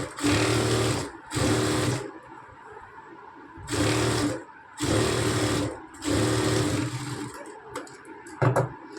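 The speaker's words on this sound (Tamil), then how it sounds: "நம்ம மேல் தையல் மட்டும்தான் போடுற மாதிரி இருக்கும்" Sewing machine top-stitching a chudidar side seam, running in five or six loud bursts of rapid buzzing stitches separated by short pauses, with a faint knock near the end.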